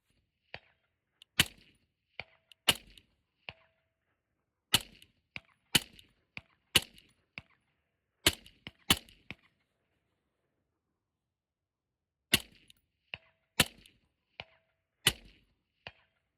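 A Knight's Armament SR-25 semi-automatic rifle chambered in 6.5 Creedmoor fires outdoors in quick strings of sharp, loud reports, about sixteen shots in clustered bursts separated by short pauses.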